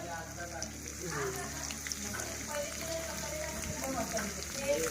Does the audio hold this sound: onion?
yes